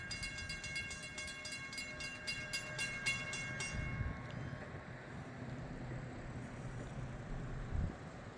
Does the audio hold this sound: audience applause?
no